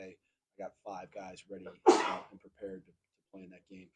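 A single loud sneeze bursts out in a press conference room, set between stretches of a man's speech.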